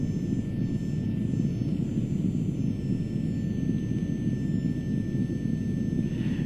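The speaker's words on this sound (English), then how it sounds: "We've got to backtrack before we can take off." An aircraft engine drones steadily while taxiing on the runway at Innsbruck in the X-Plane flight simulator, a continuous low rumbling hum with a faint high whine, no talk over it.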